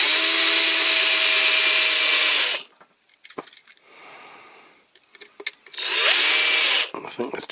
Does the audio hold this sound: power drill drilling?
yes